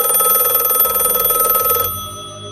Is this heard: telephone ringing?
yes